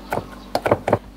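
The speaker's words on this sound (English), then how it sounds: "So now, we have a rosemary. Gagawin natin, we'll chop this finely." A knife chops fresh rosemary finely on a cutting board, giving three short clusters of crisp, close knocks with quiet pauses between them.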